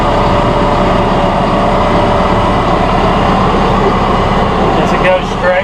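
A Massey Ferguson tractor with Dyna VT transmission, towing a Massey Ferguson 1393 RazorEdge disc mower conditioner, drives along in a loud, steady, close mechanical roar with a person speaking over it.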